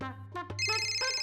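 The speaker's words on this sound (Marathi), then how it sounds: "पिल्या उचल ना फोन" A telephone ringtone in a Marathi TV serial scene sounds as a steady, close electronic tone that starts about halfway through after a few brief softer sounds.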